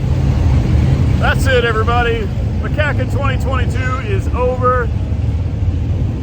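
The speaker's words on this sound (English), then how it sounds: "You can hear the cars firing up in the background." At the MCACN 2022 car show parade, car engines fire up and rumble steadily in the background while someone speaks over them.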